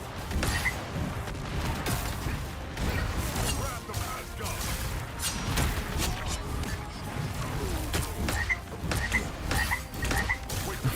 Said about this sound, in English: Frog noises